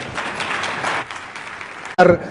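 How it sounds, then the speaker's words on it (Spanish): Audience applause at a conference session on digital classroom learning environments, a short burst of clapping that drops away, followed by a brief loud noise near the end. "Un aplauso."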